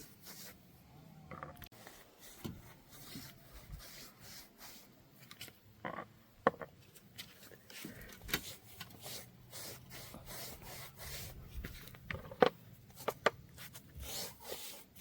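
A brush rubs and scrapes damp-proof coating onto a house wall, giving quiet, irregular scratchy strokes with occasional sharper taps, close by and without talk.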